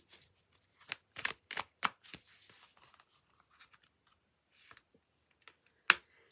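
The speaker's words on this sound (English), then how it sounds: "we've got some oracle cards here, so I'm just giving those a shuffle" Oracle cards are shuffled in a quick series of crisp riffling bursts, then it goes quiet and a single sharp snap follows near the end.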